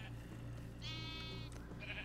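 A sheep in a modded Minecraft game bleats once, a short wavering cry rising over a steady low game hum, fairly faint, with no talking.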